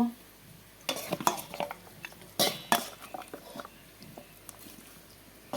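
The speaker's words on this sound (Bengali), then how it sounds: "এগুলোকে এখন মেখে নেব" Mutton being mixed by hand with spices for a marinade, wet squelching and scattered clinks against a bowl in short irregular bursts, close up with no talking.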